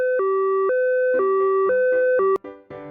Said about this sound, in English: Ambulance uses a siren when taking patients to the hospital.